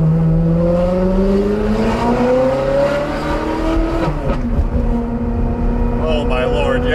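A cheap Ferrari fitted with expensive parts and an F1-sounding exhaust revs loudly up through first gear, its pitch climbing steadily before a brief dip and renewed rise. The exhaust note is close and dominant, and voices mix in with it.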